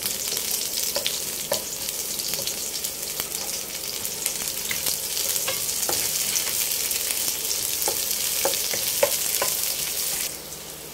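Onions sizzle continuously in a non-stick pan, close and fairly loud, with soft scraping taps from a non-metal spoon stirring through the frying.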